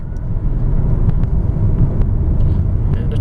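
A 2002 Ford Taurus SE engine pulls hard under acceleration on a test drive, a steady loud low drone with road and wind roar throughout and no clear voices.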